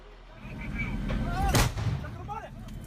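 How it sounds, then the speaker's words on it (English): Grenade blast in a street during an urban battle between Iraqi forces and ISIS fighters: one sharp, loud burst midway, set against low rumble with faint voices. "3 grenades land in the street."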